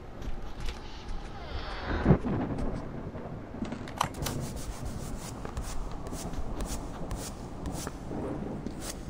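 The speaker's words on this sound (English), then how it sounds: "It's like someone is erratically stroking with a brush." In a horror video game, something scrapes and rubs erratically like a brush stroking in a painting room, a rough, uneven texture running continuously with a few louder scrapes, under a low ambient rumble.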